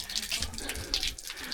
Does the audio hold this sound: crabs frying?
no